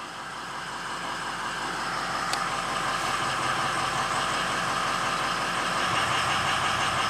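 A Ford 6.0 Powerstroke diesel idles steadily with an uneven, knocking beat from a misfiring cylinder 5 injector, heard close and continuous with no talking.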